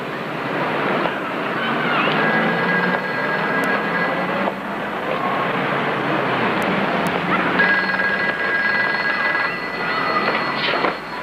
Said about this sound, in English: Better answer that phone, huh?